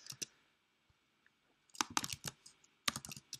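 Bursts of quick clacking keystrokes on a computer keyboard while writing Android Studio code, a short flurry at the start, then two denser clusters after a quiet pause, close and crisp with no talk.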